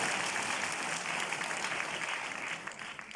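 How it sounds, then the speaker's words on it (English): An audience of students claps for General Miguna Miguna, a dense, continuous wash of hand claps and crowd noise that holds steady at moderate loudness for a few seconds. "Kindly clap for general."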